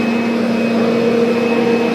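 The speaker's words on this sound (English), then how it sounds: "So I'm sure when I turn this on, there's a motor." A Rainbow vacuum cleaner motor runs with a steady, close whine and hum, unchanging for the whole stretch with no voices over it.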